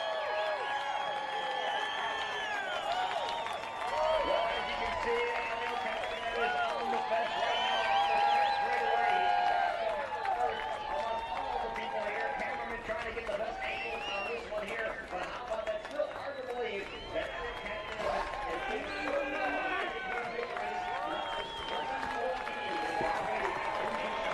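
A distant grandstand crowd at an IndyCar race at Iowa Speedway roars and claps after Helio Castroneves wins, a broad sustained din under an announcer's voice for the whole stretch.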